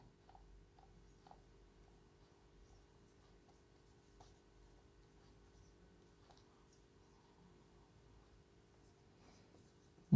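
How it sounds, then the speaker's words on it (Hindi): Pen writing on paper while noting chemistry formulas, a faint close scratching with tiny ticks and strokes, quiet and continuous, no talk. "चलिए दूसरे पेन से लिख देते हैं ब्रोमाइड"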